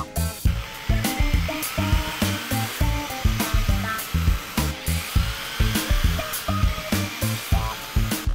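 A power driver runs in repeated short bursts as half-inch screws go into a wooden brace for a removable window platform, a steady rhythmic whir-and-stop pattern, close and loud, with no talking.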